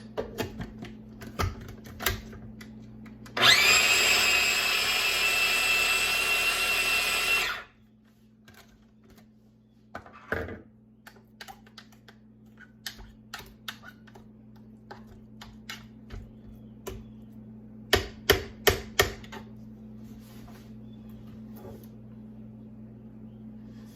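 Deviled egg filling with bacon is worked together with a mixer that whirs loudly for about four seconds. Afterward come scattered soft taps and clicks of mixing against the bowl.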